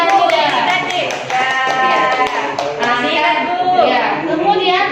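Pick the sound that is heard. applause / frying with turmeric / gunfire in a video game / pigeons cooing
applause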